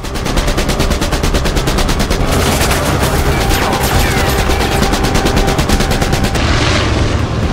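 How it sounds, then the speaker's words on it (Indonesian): Dense, continuous machine-gun fire rattles loudly and close throughout an action-film scene in which an aircraft is taking off. "Akibat dari tembakan Atami, pilot tampaknya terluka"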